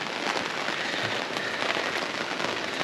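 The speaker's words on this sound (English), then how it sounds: "It's raining, it's wet, it does rain in the desert, who knew?" Steady rain pours down in the desert at Uluru in Australia's Northern Territory, a dense, even hiss of drops on surfaces near a campsite caravan, continuous with no voices.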